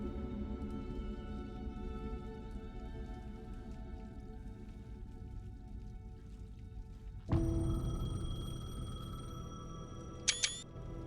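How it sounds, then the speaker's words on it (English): A phone rings in the dark horror game Alan Wake 2, a sudden bright tone over a low rumbling ambience, followed near the end by two short sharp chimes. "My phone was ringing."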